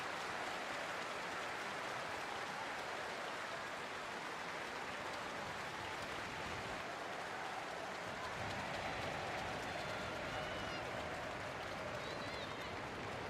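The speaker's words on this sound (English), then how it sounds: "Getting a warm applause from all the fans here in Stamford Bridge." Chelsea and Manchester City fans at Stamford Bridge applauding during a Women's Super League match, a broad, distant wash of crowd clapping that holds steady throughout, under faint commentary.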